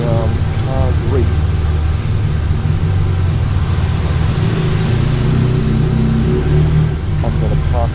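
A Honda VFR1200F motorbike rides through busy traffic in the rain, its engine a constant loud drone among surrounding vehicles, with brief voice-like chirps and talk mixed in.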